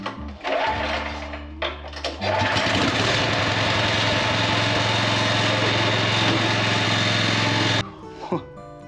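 Snow blower engine primed with a primer bulb, catching after a couple of brief cranking bursts, then running loud and steady for several seconds before cutting off abruptly near the end.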